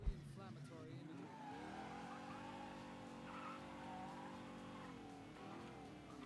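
A car driving and skidding in the video game Mafia 3, with a continuous engine drone and drawn-out tire squeal, heard under faint background talk.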